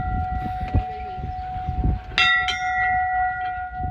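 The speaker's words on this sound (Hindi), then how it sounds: "घंटी बजाओ" A monastery bell at Tabo strikes twice with a bright metallic clang, its tone ringing on and slowly fading over soft background rumble.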